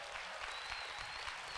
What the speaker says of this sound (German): euren Applaus jetzt nach oben für Kim